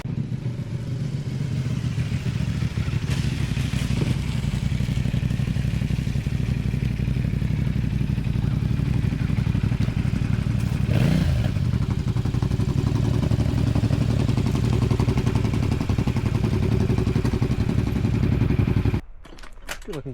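A heavy 900 lb motorcycle ridden across a lake rumbles steadily and loudly up close for about nineteen seconds, with clattering and rushing noise over the engine drone, then cuts off abruptly.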